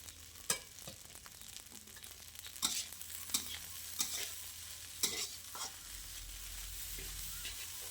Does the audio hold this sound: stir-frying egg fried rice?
yes